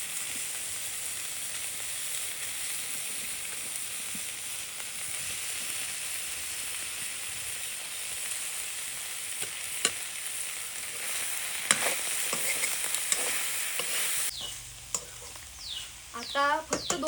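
Wild vegetables sizzle and crackle steadily in a pan, with stirring scrapes. Steamed dumplings are dropped in near the end, bringing a few sharp clatters and a brief shift in the sizzle. The voice is quiet throughout.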